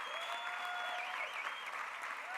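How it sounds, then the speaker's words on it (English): A crowd applauds stadium construction workers at a topping-out ceremony for the new Buffalo Bills stadium, sustained clapping heard from a distance under a faint amplified tone, steady throughout. "Let's give another round of applause to all the hard workers."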